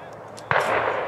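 A single shotgun blast at a sporting clays range, a sharp report followed by a sustained roar that fills the rest of the moment, fired at a flying clay target.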